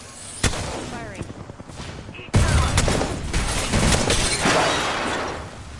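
Gunfire rings out in a PS4 video game, with a sharp shot followed by a heavy, sustained burst of shooting and shattering impacts that stays loud to the end.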